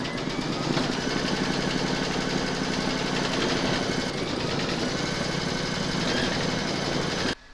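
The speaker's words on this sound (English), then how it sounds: "Pop your hoop into your machine and stitch round number 3" An embroidery machine stitches a hooped fabric Valentine's coaster over batting, keeping up a loud, continuous, fast mechanical whir and rattle that stops abruptly at the end.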